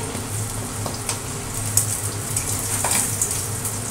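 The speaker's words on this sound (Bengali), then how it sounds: "দেখো মাছগুলো ভাজা হয়ে গেছে, তুলে নিচ্ছি" Fish sizzles in hot oil in a home kitchen, a loud, continuous crackling hiss with occasional sharper pops and spits, no talking.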